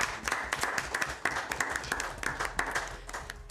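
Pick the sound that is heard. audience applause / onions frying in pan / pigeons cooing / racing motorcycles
audience applause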